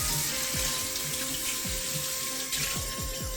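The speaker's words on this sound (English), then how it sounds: "start filling this sink up again with bleach water" Tap water runs steadily into a sink, filling it with bleach water for sanitizing mead bottling gear, a continuous close rush with faint rhythmic low knocks underneath and no talking.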